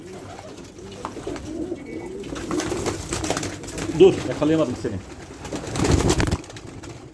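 A blue tumbler pigeon coos in soft, repeated low calls close by indoors, interleaved with someone talking and some rustling and handling sounds.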